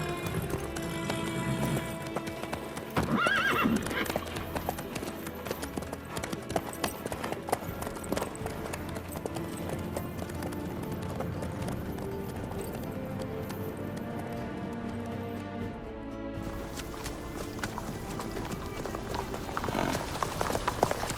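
Horse hooves clip-clop steadily in The Witcher, a continuous trotting rhythm over busy ambient noise and music, with no clear neigh standing out.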